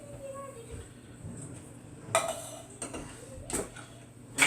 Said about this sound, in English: scrape the cans out really good.